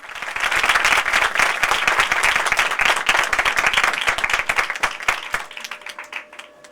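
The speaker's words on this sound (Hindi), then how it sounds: "बहन की खूबसूरत प्रस्तुति के लिए जोरदार ताली बजाएंगे" A church congregation at an evening worship meeting claps warmly after a performance, dense steady applause that thins out and fades toward the end, loud and close.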